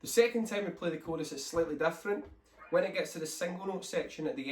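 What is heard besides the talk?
No everyday noises stand out.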